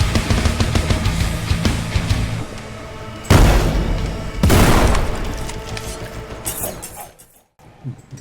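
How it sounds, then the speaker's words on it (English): Shotgun blasts in the game Forgive Me Father over loud music, two heavy booming shots standing out from a busy bed of combat noise, close and forceful before the sound thins out. "is that shotgun and music so damn satisfying"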